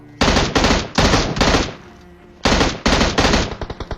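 Loud, close bursts of automatic M16 rifle fire in a first-person shooter set in a school apartment, several rapid volleys separated by short pauses, ending in quick single shots.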